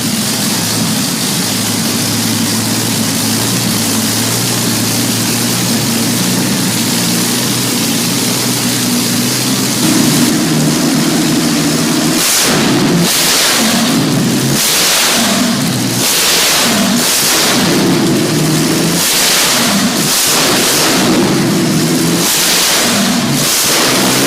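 A 1,470-horsepower vintage V12 aero engine from the 1930s, the kind that powered Spitfires and Lancasters, runs loud and close, a deep steady drone that later pulses with rhythmic surges as it revs.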